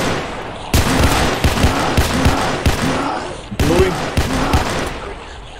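Gunfire in a Roblox shooting game, with several loud bursts of rapid shots aimed at enemies, separated by short pauses; a voice is heard briefly amid the shooting.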